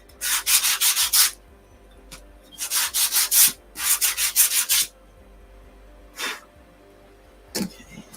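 Several bursts of sandpaper rubbing along the edges of a wooden dowel, each a brisk back-and-forth scrubbing run of a second or so, separated by short pauses, close and fairly loud with no talking.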